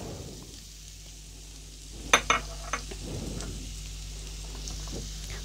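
Onion frying in olive oil, a soft steady sizzle with a few sharp clinks and scrapes of a utensil against the pan near the middle, and no voices.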